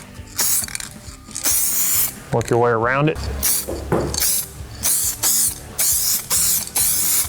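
Aerosol spray paint hissing onto a 1992-1996 Ford OBS truck door panel in short bursts, with someone talking between passes and a brief clatter midway.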